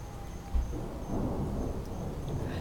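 Thunder rolls during a thunderstorm, a low rumbling boom that swells and lingers with a thump near the start, heard over a steady wash of rain.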